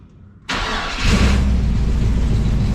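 A Toyota FJ40 engine cranks and catches, then settles into a steady, fairly quiet idle that fills the rest of the short clip at close range.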